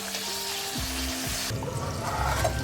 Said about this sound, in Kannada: ಬದನೆಕಾಯಿ ಸ್ವಲ್ಪ ಸಾಫ್ಟ್ ಆಗೋವರೆಗೂ ಫ್ರೈ ಮಾಡ್ಕೊಳ್ಳಿ.